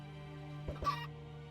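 A chicken in modded Minecraft lets out a brief pair of clucks over a steady low hum, with no talk.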